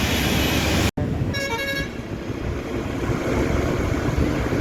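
Road traffic jam at night on the Mumbai to Sangameshwar route, a dense engine rumble with a brief abrupt break, then a short car horn toot rising above the steady traffic noise.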